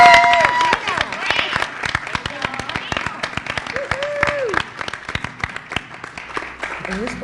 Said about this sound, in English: Please give everybody an applause